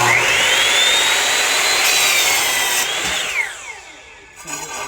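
A power saw cuts through a clamped piece of wood in one continuous pass, a loud, close whining buzz that holds steady and then drops in pitch and spins down as the cut finishes.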